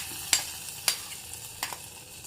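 Hot ghee tempering meets mango pulissery curry with a soft ongoing sizzle, punctuated by several sharp spoon or vessel clinks at uneven intervals, close and fairly quiet.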